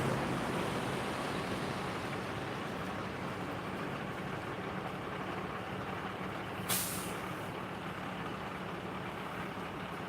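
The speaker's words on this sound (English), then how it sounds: "Another truck going to Walmart." A large truck heading to Walmart rumbles by on a road in Hurricane, Utah. There is a heavy, steady roar throughout and one brief sharp hiss of an air brake about two-thirds of the way in.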